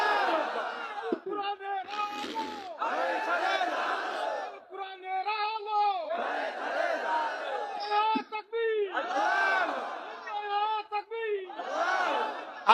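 A crowd at a religious gathering chants takbir slogans in call-and-response, a leader's shout answered by many voices in loud rhythmic bursts, repeating throughout with brief gaps.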